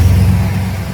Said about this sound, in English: Love the sound of a V8 in the morning.